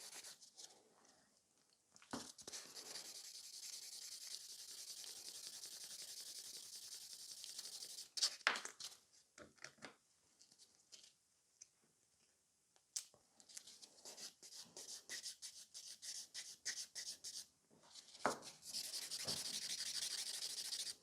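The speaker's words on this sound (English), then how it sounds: "I'm just going quickly buff this tip as well." A nail file buffs a fingernail tip smooth in quick back-and-forth strokes, a soft close scratchy rubbing that comes in bursts with brief pauses between them, fairly quiet overall.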